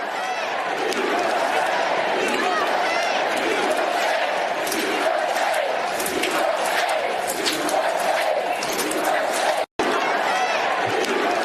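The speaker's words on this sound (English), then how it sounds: "They were chanting, I believe, USA, USA." A large crowd at a Trump event chants "USA" in a loud, steady rhythmic roar of massed voices with shouts layered on top, continuous apart from a momentary cut near the end.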